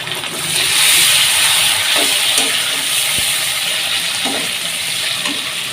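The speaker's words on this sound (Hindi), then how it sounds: "1 से 2 मिनट इसको फ्राई करेंगे प्याज के साथ।" Chopped onion and a medium tomato fry in a pan for an aloo gobi recipe. A loud, steady close-up sizzle carries through, and a few faint stirring knocks sound underneath.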